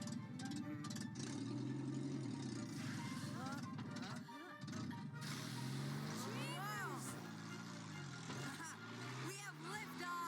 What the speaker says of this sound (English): I'm an 11-year-old driving a race car built by another 11-year-old.